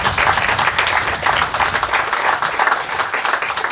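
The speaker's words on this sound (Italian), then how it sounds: "a cui va il nostro applauso" Applause from an audience at an award ceremony forms a dense, steady patter of many hands clapping together and holds at a strong level for nearly four seconds.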